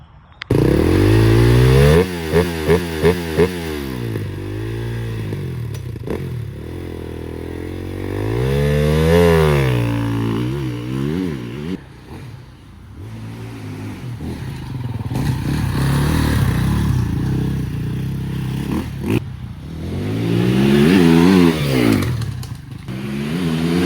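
Enduro motorcycle on a timed training run during a race weekend, engine revving hard and rising and falling through repeated acceleration and gear changes, loud and close with a second bike briefly passing.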